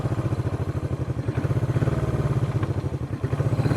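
A vintage Honda CB360 motorcycle engine runs close by with a throbbing, rapidly pulsing low rumble and a light mechanical clatter, holding steady at a rough idle.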